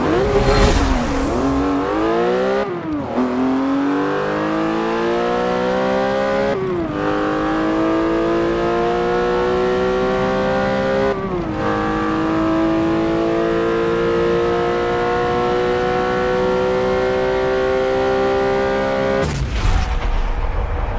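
A 2004 Porsche 911 GT3 racing in Forza Motorsport 7, its engine revving hard through repeated upshifts with rising pitch sweeps and brief gaps between gears, loud and continuous throughout.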